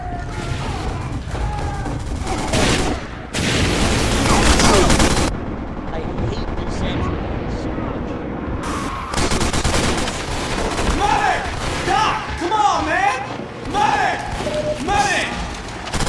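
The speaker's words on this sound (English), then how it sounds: "Oh my god, dude, the freaking sentry guns!" Sentry guns in a video game fire long bursts of rapid, loud automatic gunfire with clattering mechanical sounds, and players talk over the shooting.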